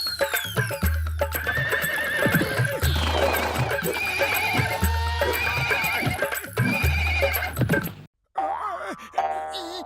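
Cartoon horse neighing and whinnying repeatedly over rhythmic clip-clopping hooves, loud and close, with a brief cut to silence near the end followed by a short musical sting.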